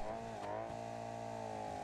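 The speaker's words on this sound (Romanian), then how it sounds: "motorul încă merge" A game car's engine keeps idling after a crash: a steady, low, even hum that holds throughout, faint and alone, with a small bump partway through.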